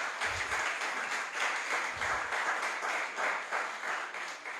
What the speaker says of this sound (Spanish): Damos un fuerte aplauso al Señor por la